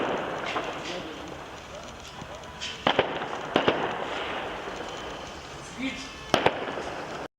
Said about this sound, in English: as gunshots rang for Independence Day